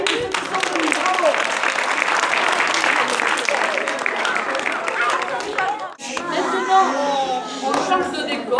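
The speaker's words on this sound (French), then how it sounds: "On applaudit tous ceux qui sont venus." Audience applause at a forum theatre performance in Tarbes, a long burst of dense clapping with chatter that breaks off near the six-second mark, after which a voice speaks over thinner clapping.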